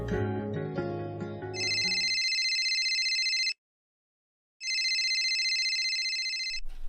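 An electronic phone ringtone sounds in two loud, steady bursts of about two seconds each, separated by a short silence, while an outgoing call goes unanswered. Background music plays before the first ring.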